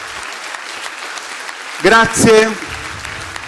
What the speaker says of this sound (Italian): quindi questo applauso è per voi.